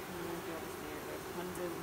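Honeybees fan at the entrance of a newly installed hive from a 3 lb package, giving a faint, steady, low buzzing hum that continues without a break.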